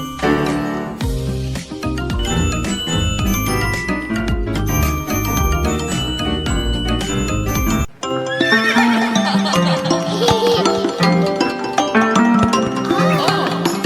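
A horse neighs loudly within a children's nursery song, backed by jingling bells, clip-clop hoofbeats and steady music throughout.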